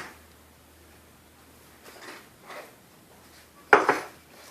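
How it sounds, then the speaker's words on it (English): Utensil scraping and knocking against a pot as Parmesan and oregano are stirred into a meatball sauce, a few quiet scrapes followed by one sharper clink near the end, otherwise near silence. "we will now carefully stir this into the meatballs, because they are fragile and they will break up"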